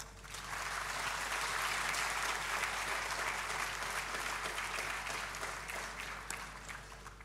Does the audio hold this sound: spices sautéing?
no